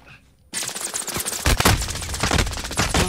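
Rapid gunfire in Call of Duty Warzone erupts after a brief quiet moment, a dense, loud automatic fusillade with sharp cracks and heavy booms rolling on without pause.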